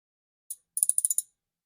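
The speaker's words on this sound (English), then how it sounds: "we will hand tighten it. Then we'll come back and tighten it properly." A ratchet tightens the transmission plug on a Kia Rio: one sharp click, a short pause, then a quick run of about six close, crisp clicks in an otherwise quiet garage.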